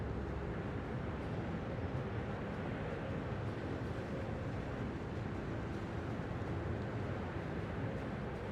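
Steady low rumble of a battleship's engines under boost in a naval battle game, a constant broadband roar with no breaks.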